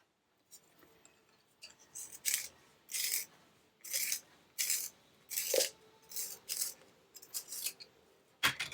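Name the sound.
sharpening a colored pencil with a pencil sharpener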